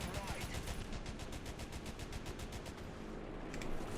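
Rapid, evenly spaced bursts of aircraft machine-gun fire from War Thunder, a steady rhythmic stream of shots running nearly the whole stretch at moderate level.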